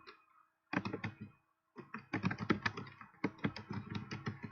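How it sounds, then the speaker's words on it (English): Fingers type on a computer keyboard in quick bursts of clicky keystrokes, separated by brief pauses, fairly close and quiet with no talking. "I can almost start typing."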